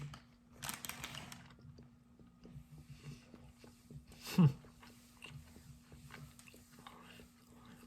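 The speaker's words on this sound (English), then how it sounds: "take a bite and let you know" Someone bites into a cold, salted pepperoni pizza slice from an MRE, with one firm bite in the middle followed by soft chewing, and faint murmured speech around it.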